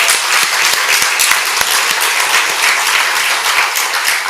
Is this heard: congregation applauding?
yes